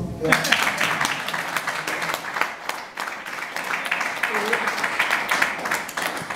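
Audience applause at a Brazilian music and poetry concert, dense crowd clapping that keeps up steadily throughout at moderate loudness.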